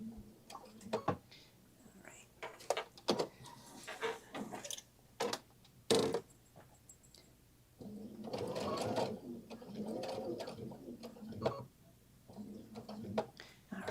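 A sewing machine stitches a box pattern across the ends of bag webbing, its quick mechanical ticking coming in short close bursts with pauses between them while a person talks quietly at times.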